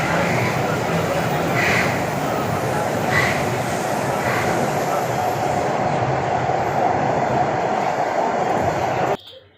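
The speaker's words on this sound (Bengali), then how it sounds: "তোমরা এতক্ষণ ধরে যে আওয়াজটা পেলে, ওটাই কিন্তু অরিজিনালি তোমার হচ্ছে ট্রেনের আওয়াজটা" Kolkata metro train running in the tunnel beneath the Ganges river, a loud, steady broadband rumble and roar heard from on board, continuous for about nine seconds with faint voices and brief higher whooshes before it cuts off abruptly.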